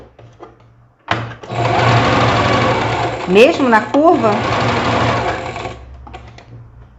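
A domestic sewing machine stitching steadily as its pedal is pressed harder, the motor hum rising and holding at speed, with someone talking over it briefly.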